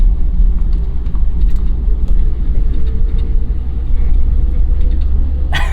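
Inside a 1988 Mazda 323 on the move, a constant loud low engine and road rumble fills the cabin with faint rattles, heard alone without talk.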